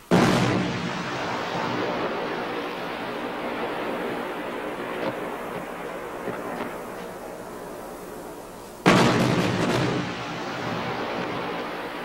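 An AMX-30B2 tank's main gun fires at targets at night: a sharp heavy blast opens, followed by a long roaring, rumbling wash, then a second loud blast near the end trails off into the same broad noise.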